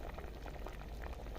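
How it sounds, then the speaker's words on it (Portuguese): A pot of beans (feijão) at a rolling boil makes a faint, steady bubbling and gurgling throughout, with no voices. "ó, já tá fervendo."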